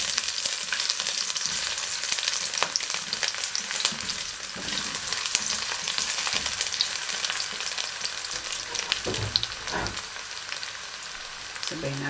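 Ginger and garlic fry in hot oil in a pan for a spicy Mongolian beef dish, a steady, fairly loud crackling sizzle running throughout with a few stirring scrapes near the end.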